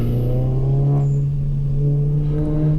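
A Volkswagen MK7 time attack car pulls away on the Mid-Ohio track, a steady droning engine note holding close and loud for a few seconds without talk.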